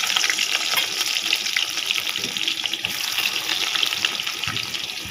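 Onion dropped into a hot frying pan for cooking meat, a steady loud sizzle and hiss throughout with crackling pops, no talking.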